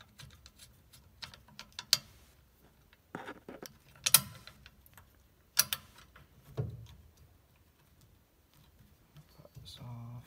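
Someone loosens the parts of a homemade derby car shifter assembly with a few close, sharp clicks and knocks. The handling sounds come in scattered bursts over a quiet background.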